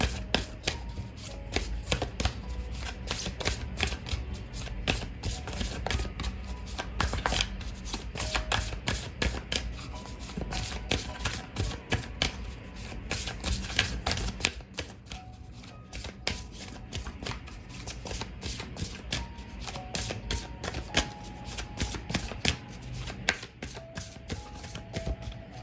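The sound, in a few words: shuffling tarot cards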